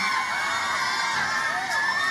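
A large crowd at a live event cheers and shouts, a dense, sustained roar of many voices with high whoops and children's shouts, loud and continuous throughout.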